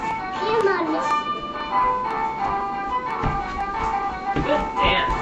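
A tinkling music box melody played by a toddler, steady tonal notes running throughout, with a child's babble and chatter over it.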